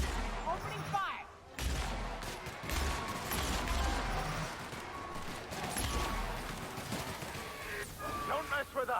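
Dense gunfire rattles through a firefight in the sci-fi video game The Outer Worlds, bursts of shots and impacts running almost continuously at close range, with a voice speaking over the fighting.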